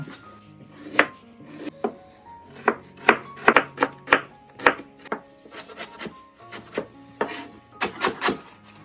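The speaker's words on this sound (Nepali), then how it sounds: "यो मुला गाजर काट्दैछु म लामो लामो काट्नुपर्छ" Radish and carrots being cut into long strips on a board for kimchi, a series of crisp knife chops in irregular clusters, close and distinct with brief pauses between strokes.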